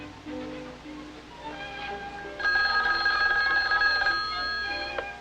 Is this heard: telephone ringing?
yes